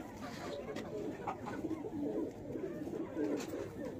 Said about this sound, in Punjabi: ਇਹ ਵੀ ਅੱਛਾ ਕਬੂਤਰ ਹੈ,